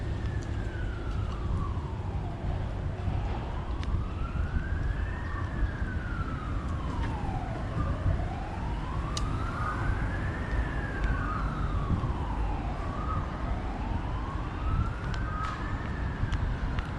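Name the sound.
ambulance sirens on a Hong Kong street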